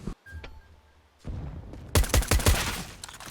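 Rapid gunfire crackles in Counter-Strike: Global Offensive, with a sharp volley of close shots after a quieter start. The shots come loud and in quick succession, with no talking.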